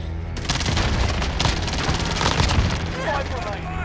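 Rapid gunfire bursts from a military-style shooter video game, dense and continuous for several seconds with booms mixed in, under a busy game soundscape.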